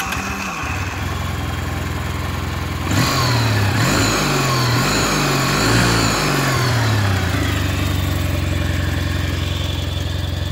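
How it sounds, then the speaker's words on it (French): A Kawasaki W800 motorcycle engine cranks and fires up after a short silence, then is blipped through several quick revs that rise and fall before settling into a steady idle, close and loud throughout. "puisque le moteur est en route, on va parler de ça"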